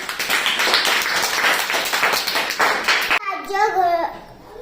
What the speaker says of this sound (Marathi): टाळ्या वाजवा तुमच्यासाठीच